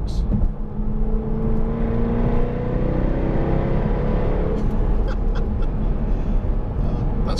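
A Jaguar F-Type V8 with 542 horsepower rumbles loudly while driving, a dense steady engine roar with a rising tone as it pulls, filling the whole clip.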